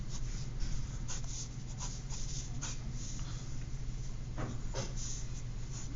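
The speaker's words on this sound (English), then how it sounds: "just draw the little body with me now" A pen or pencil drawing an elf's body on paper makes soft, continuous scratchy strokes with short bursts of quicker marks, close and steady, and no voice.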